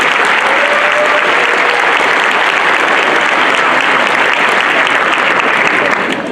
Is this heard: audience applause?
yes